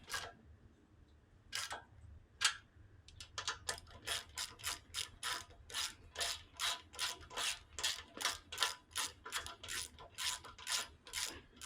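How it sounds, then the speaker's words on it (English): Ratcheting torque wrench tightening air intake bolts on a 2023 Harley-Davidson Fat Bob Softail, starting with a few isolated clicks and then settling into a steady run of rapid ratchet strokes, close and clear. "tighten them, and then we're going to use a torque wrench to make sure that we get the right torque on here."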